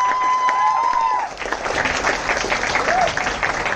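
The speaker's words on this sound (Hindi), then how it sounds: "एक बार जोरदार ताली होनी चाहिए इनके लिए।" An audition audience claps and applauds loudly for a few seconds, the clapping swelling and staying dense throughout.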